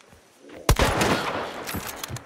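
A loud, close gunshot in the Hunt: Showdown 1896 video game cracks out sharply and then rolls into a long reverberant tail, with fainter follow-up reports trailing near the end.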